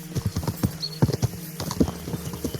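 Horses' hooves clip-clopping in a brisk, uneven rhythm from the medieval video game Kingdom Come Deliverance II, close and moderately loud, with a faint whinny, no voices.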